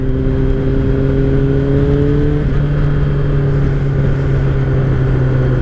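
A 2003 Kawasaki ZR7S motorcycle engine drones steadily while riding at night, its tone holding loud and close before stepping down slightly partway through, with wind noise underneath.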